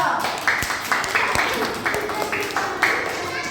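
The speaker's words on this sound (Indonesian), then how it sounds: "Oke, tepuk tangan dulu untuk kita." A small group claps together in a classroom or training session, a busy, steady patter of hands with stronger bursts in a few places, continuing for a few seconds under background voices.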